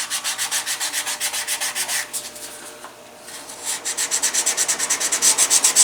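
A leather pancake holster's edge is burnished by hand, giving quick, rhythmic rubbing strokes that are close and steady, pause briefly in the middle, then pick up again faster.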